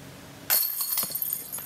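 Glass breaks sharply and close by at a disc golf tournament final round. A bright crash is followed by scattered tinkling shards, with no voices.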